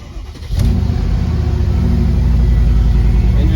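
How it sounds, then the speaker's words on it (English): A car engine starts up close and settles into a loud, steady idle, rumbling evenly for several seconds. "Engine sounds healthy."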